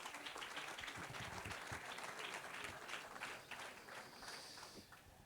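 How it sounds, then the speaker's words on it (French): Audience at an awards ceremony applauding prize winners, a steady dense wash of clapping from many hands that fades slightly toward the end, with no clear talk. "prendre également votre prix sous vos applaudissements"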